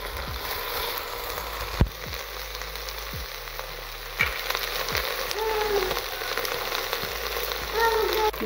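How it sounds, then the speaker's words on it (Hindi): Okra and onion with coriander frying in a handi pot, a soft crackling sizzle with occasional sharp knocks and scrapes of a stirring spoon, close by and without speech. "इसके साथ ही हम डाल देंगे अपना प्याज, ये भी इसके साथ ही फ्राई होगा"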